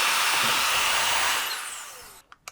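A strong, steady rush of air from a cordless electric air duster, loud and close, that cuts off near the end, leaving a couple of brief clicks.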